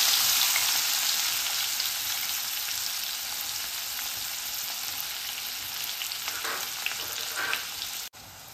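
Cumin, mustard seeds and finely chopped onion fry in hot oil for a broccoli dish, giving a steady, close broadband sizzle with faint stirring crackles near the end and no voices.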